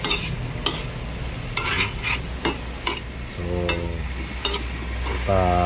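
Beef sautéing in a small amount of oil, a steady sizzle broken by repeated sharp clinks and scrapes of a utensil against the pan, with some faint tonal background sounds and no talking.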